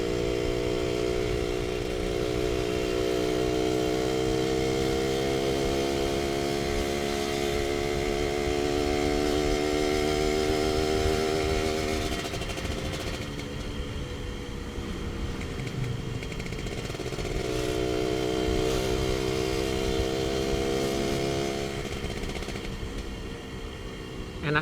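A Suzuki Satria R120 motorcycle fitted with an Andyspeed aftermarket exhaust revs up steadily on an empty road, its engine note rising, easing, then climbing again in a continuous loud drone.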